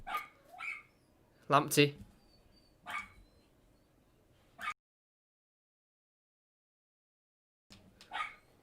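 Dogs barking in short, sharp bursts close by indoors, a few scattered yaps separated by pauses and one long silence, with a voice speaking briefly among them.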